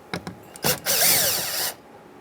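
A cordless drill or power driver backs a Phillips screw out of a Mazda CX-9 door panel, with a couple of short taps and clicks and then one sustained whirring run of about a second, close and fairly loud.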